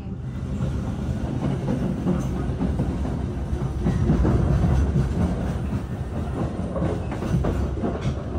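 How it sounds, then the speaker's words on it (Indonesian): The Manahan passenger train from Gambir to Solo Balapan rumbles past close by, its wheels clattering in a steady clickety-clack over the rails for the whole stretch. "itu yang baru saja melintas kereta Manahan tambahan dari Gambir tujuan Solo Balapan"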